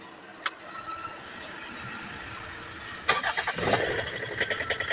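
A Mitsubishi Strada pickup with a newly fitted starter: a brief click, a steady whirring background, then the engine cranks and catches with a rough, pulsing rumble settling toward idle, close and fairly loud.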